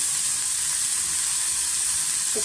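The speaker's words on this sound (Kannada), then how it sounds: "ಈರುಳ್ಳಿ ಮತ್ತು ಕರಿಬೇವು ಸೇರಿಸ್ತಾ ಇದ್ದೀನಿ" Chopped onions and curry leaves sizzling in hot oil for a brinjal fry, a loud steady hiss with a brief clatter near the end and no voices.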